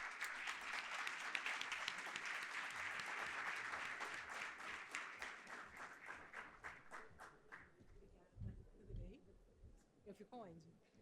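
An audience at an economics panel event applauds as the moderator is called to the stage; dense clapping fades out after about eight seconds, then people talk faintly with some rustling.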